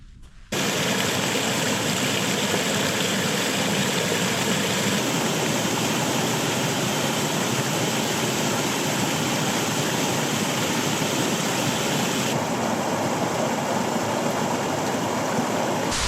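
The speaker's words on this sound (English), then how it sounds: "This is the Devlin River, and it comes from the Loch Glenveagh" The Devlin River in Donegal's Derryveagh Mountains, flowing out of Loch Glenveagh, rushes in a steady, loud, continuous wash of water close by, with no voices.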